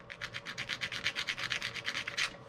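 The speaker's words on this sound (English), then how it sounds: "Let's just polish this one up." The contact of an electric jack switch from a truck camper is polished by hand with quick, even back-and-forth rubbing strokes, about twenty in a row, close and fairly soft with no talking.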